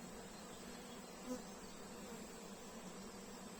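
Honeybees at a hive during spring swarming give off a steady, dense buzzing drone that stays even and continuous throughout, with one brief louder pass near the start and no voices.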